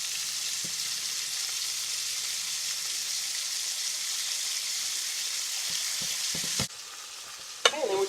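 Country fried steak sizzles in a pan with a constant bright crackle of hot oil. Near the end come a few soft knocks and a sharp clatter, and the sizzle drops slightly.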